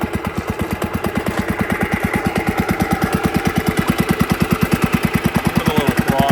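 A 1964 Abe Mathews Trailmaker snowmobile engine with the choke on catches and runs, its loud, rapid, steady chugging exhaust pulses thumping close by, and the pace quickens slightly toward the end.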